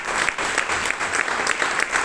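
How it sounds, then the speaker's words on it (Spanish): A church congregation claps during a Sunday worship service, a steady dense patter of many hands filling the room without pause. "Demos un fuerte aplauso a nuestro Dios."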